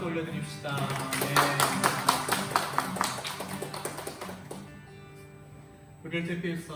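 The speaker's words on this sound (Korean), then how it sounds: "박수 올려드립시다." Congregation clapping in rhythm during a Korean church worship service, steady repeated claps over music and voices, fading toward the end.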